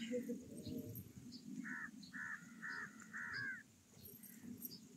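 A crow caws several times in a quick series of harsh calls over low outdoor rumble and faint background voices, moderately distant.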